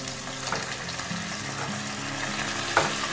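Broccoli and carrot frying in a pan for a simple Indian stir-fry, a steady close sizzle with light stirring clatter and a brief spatter near the end, no one talking.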